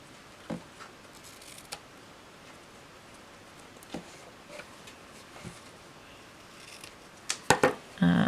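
Scissors snip ribbon tails on a large square paper gift bag, a handful of sharp isolated cuts spread out, with a cluster of quick snips and rustling near the end.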